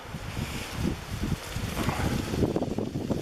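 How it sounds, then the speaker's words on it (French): Wind gusts buffet the microphone in a low, rumbling rush, steady with slight surges, no voices. "Le vent souffle toujours."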